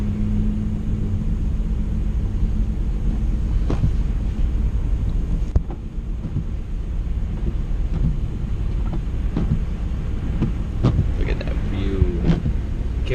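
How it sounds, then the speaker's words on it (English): A car travels slowly, around 30 mph, along a snow-covered road, its steady low engine and road rumble mixed with wind noise at the microphone, with a few faint clicks and brief speech-like sounds. "I'm driving safe."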